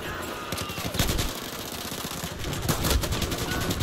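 Battlefield 4 multiplayer firefight with rapid automatic gunfire: dense, loud bursts of shots rattling continuously with a few heavier cracks, no voices over it.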